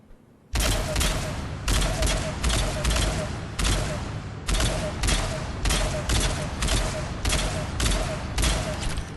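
Phaeston assault rifle in Mass Effect 3 fires in loud, rapid, rattling bursts, about ten in a row with short gaps, close and dominant with no talk.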